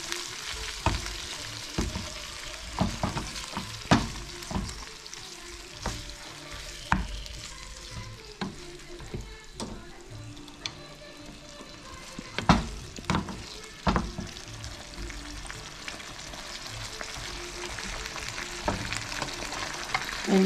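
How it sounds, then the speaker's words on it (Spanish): Shrimp simmer in a spicy chili sauce in a pan, giving a continuous close sizzle and bubbling, broken by repeated clacks and scrapes of stirring, with no talk. "Ahí le dejamos hervir en la salsa"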